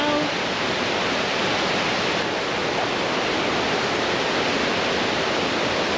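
A river in a Norwegian nature reserve rushes with a steady, loud, unbroken roar of water close by, with no voices.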